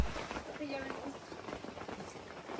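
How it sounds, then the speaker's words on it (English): Steady rain falls in a jungle near pyramid ruins, a soft continuous patter of drops with broadband hiss throughout, close and even in level with no distinct voices. "The sounds of rain."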